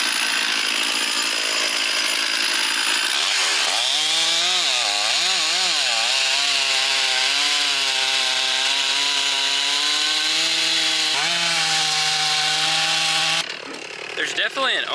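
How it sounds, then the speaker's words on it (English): A chainsaw roars loudly and continuously, its engine pitch rising and dipping as it bites through wind-felled trees in woods, then cuts off near the end. "definitely an art to cutting with chainsaws"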